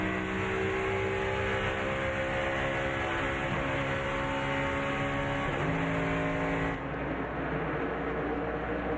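NASCAR stock cars at the start of the 2008 Aaron's 499, a restrictor-plate race, make a loud, continuous roar of many engines droning together, with pitch shifting as the pack accelerates, and no commentary over it.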